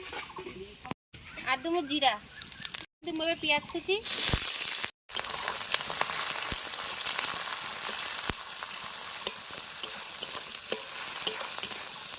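Sugar with dried chili, cloves and cinnamon sticks sizzles steadily in hot oil in a village kitchen, with crackling spatter and stirring throughout and a voice speaking over the first few seconds.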